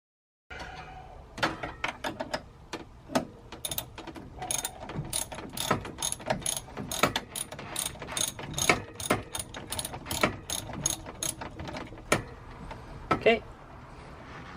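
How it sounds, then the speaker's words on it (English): A 12 mm socket on a ratchet works a nut loose on a solar power battery build in a garage, giving a long run of quick, sharp ratcheting clicks, close and steady with brief pauses. "I got a 12 millimeter socket right here."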